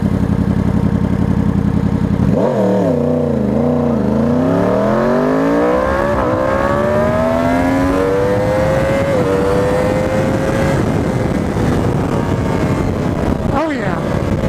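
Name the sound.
2020 Yamaha R1 motorcycle accelerating at 5,600 RPM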